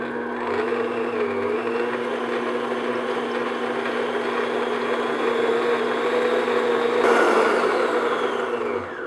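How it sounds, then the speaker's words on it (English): Electric mixer whipping cream to peaks for key lime tarts, a steady mid-pitched motor whir running continuously at close range, with a brief shift in tone near the end. "So now I'm going to beat this just until it comes up to nice peaks."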